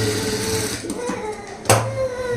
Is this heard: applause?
no